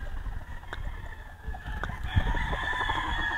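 Gamefowl brood stags at a Philippine gamefarm, with a rooster crowing over a busy background of other birds clucking and calling, moderately close and fairly loud.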